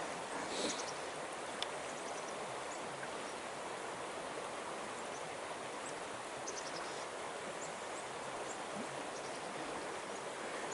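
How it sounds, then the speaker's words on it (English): The Moose River in the Adirondack wild forest, flowing with a steady, even rush of water heard from a short distance, continuous throughout with no voices. "So we got a little river on that side."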